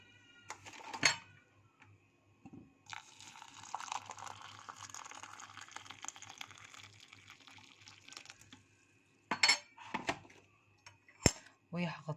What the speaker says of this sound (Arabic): هصب عليهم بقى المية السخنة